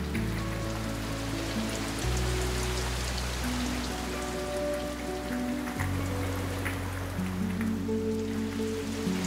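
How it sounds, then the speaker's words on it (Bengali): Steady, dense rain falling on surfaces, a continuous hiss of drops with a low constant hum underneath, even in loudness throughout and with no voices. "বৃষ্টি হচ্ছে, গা ভিজে যাচ্ছে"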